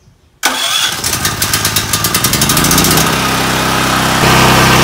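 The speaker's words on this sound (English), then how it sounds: "So we'll go ahead and turn the battery on and then push button start." A generator is started with a push button, cranking briefly with rapid pulses before catching and running at a steady, loud, buzzing drone close by.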